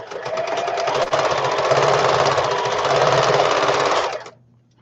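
Sewing machine stitching fabric pockets for a custom-sized traveler's notebook, running steadily and loudly for about four seconds in a dense buzzing hum before stopping, with no talk.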